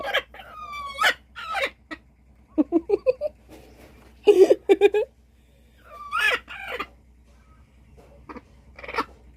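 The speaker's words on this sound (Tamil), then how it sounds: "ஏய் கோழி, முட்டை போட்டியா?" A country hen clucks in short repeated bursts, with a few higher squawking calls between them, close by against a quiet background.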